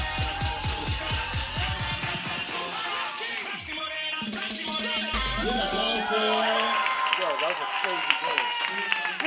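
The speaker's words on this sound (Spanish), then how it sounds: "Un aplauso." A studio audience applauds and cheers during a children's telethon show with a singing and dancing group, clapping building into a dense, sustained roar of hands and voices after rhythmic music.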